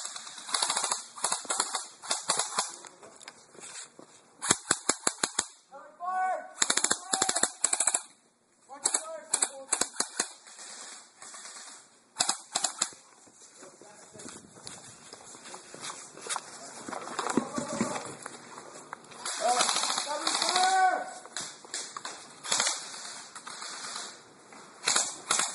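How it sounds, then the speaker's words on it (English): Airsoft guns snap and pop in bursts and single shots throughout an outdoor Marines versus militia skirmish, some shots close and sharp, others scattered, with people shouting and talking in between. "They're shooting at me."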